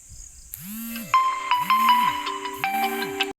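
A cellphone alarm rings in a looping electronic melody, repeating in three bursts, fairly loud and close, with no talking.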